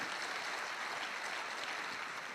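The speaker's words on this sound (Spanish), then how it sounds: "Den un fuerte aplauso al Señor" A church congregation applauds at a worship service, a steady, dense wash of many hands clapping together, heard faint and somewhat distant without a break.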